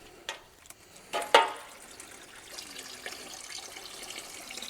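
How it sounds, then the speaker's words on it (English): Water drains and splashes from a rusty 1980s Honda dirt bike fuel tank during rinsing, a few sharp knocks and splatters followed by a soft continuous trickle. "We're gonna drain it out, rinse it out really good and see what it looks like on the inside."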